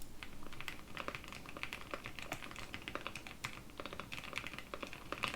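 Continuous typing on a $100 custom mechanical keyboard with unlubed stems, rapid uneven clacks and taps close to the mic, steady over several seconds with no talking.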